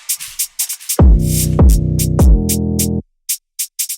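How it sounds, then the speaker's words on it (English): Drill beat playing alone: three heavy, booming 808 kicks with long sustained tails hit about half a second apart, backed by crisp ticking hi-hats and sharp snare hits that continue briefly after the bass cuts out. "I added these kicks, and these kicks complement the 808 real well, with the hi-hats and the snare"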